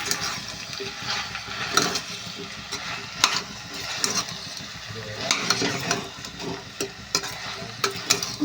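Fried potato curry with salt and chilli is stirred in a pan, a busy run of scraping, clattering spoon strokes over a soft sizzle, close and fairly loud, with someone talking at times.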